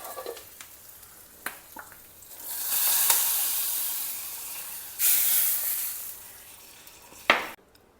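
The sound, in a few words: hing and curry leaves sizzling in hot ghee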